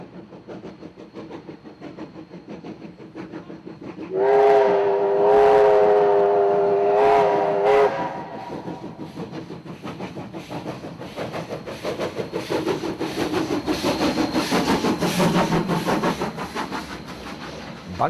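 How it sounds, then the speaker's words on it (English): Steam locomotive 794 on the grade to Horapito gives a loud, multi-tone steam whistle in several blasts. Rhythmic chuffing and rail rumble build beneath it as the train works past. "794 hauled the train up the grade to Horapito"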